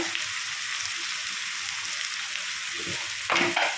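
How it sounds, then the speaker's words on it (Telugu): Chopped onion and green chillies frying in hot oil for an egg masala curry, a steady dense sizzle throughout with a brief louder burst of crackling near the end, no talking. "ఆయిల్ హీట్ ఎక్కింది. ఇప్పుడు ఆనియన్, పచ్చిమిర్చి వేసుకున్నాను."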